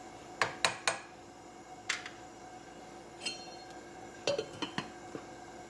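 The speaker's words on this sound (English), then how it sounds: "Stir it, put on the lid, and let it simmer for 20 minutes." Lid set onto a pot of seasoned survival rice mix before simmering: a scattered series of light metallic clinks and taps, a quick cluster near the start and a few more later, fairly close against quiet background hiss.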